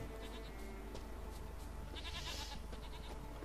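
Goats bleat in The Witcher 3, a brief nasal bleat rising over a steady droning game ambience, moderately close but fairly faint.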